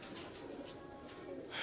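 Pigeons coo softly in the background, a few low, throaty calls over faint ambient noise.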